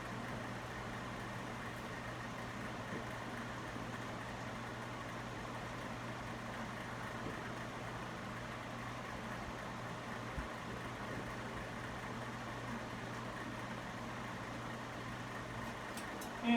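A vintage 1985 Evergo hugger ceiling fan runs on low speed, giving a steady, even motor hum with a low drone that holds constant throughout, close and unchanging, with no voices.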